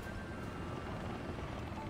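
Helicopter rotor and engine drone in the War Thunder combat game, a steady dense broadband hum with faint low thumping, continuous and mid-distance throughout.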